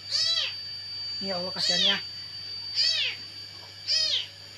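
An abandoned kitten meows repeatedly near a rubbish bin, four thin high-pitched cries spaced about a second apart, close and clear, with a voice speaking briefly between them.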